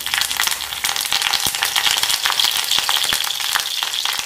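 Curry leaves sizzle in hot peanut oil for a tempering, a dense, steady frying hiss with scattered sharp crackles and pops, close and continuous with no talking.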